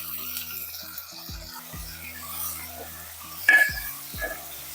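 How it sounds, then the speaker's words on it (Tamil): Chopped tomatoes sauté in an oiled pan for a vegetable kurma. Steady, soft sizzling is broken by several scraping stirs and one sharper clink of the utensil against the pan, close and without talk. "இதையும் சேர்த்து நல்லா வதக்கிடலாம்."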